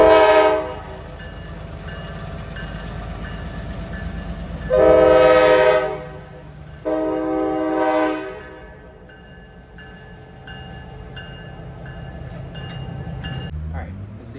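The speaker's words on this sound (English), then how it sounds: "It's about to start blasting the horn and stuff." A train horn blasts twice nearby, long loud chords separated by a pause, over the steady rumble of an idling locomotive.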